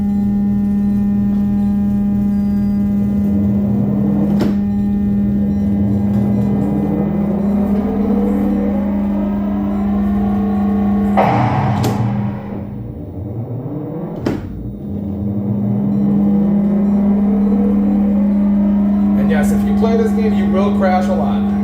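Racing car engine from a 1981 Sega Turbo arcade cabinet, a steady loud synthesized drone whose pitch sweeps up and down again and again as the car speeds and slows, with a short crash-like burst partway through.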